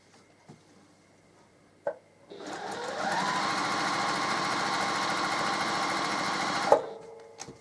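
A sewing machine stitches rows of a quilt block together, running in one steady, close, buzzing whir for about four seconds between a couple of soft handling clicks, with no talking.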